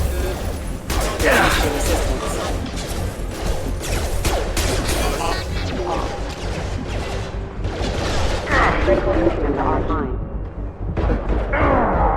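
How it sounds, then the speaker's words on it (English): Heavy sci-fi gunfire from Mass Effect 2 rattles in dense continuous bursts with thuds and mechanical clatter, loud and close throughout, with voices speaking over the combat. "Taking heavy fire!"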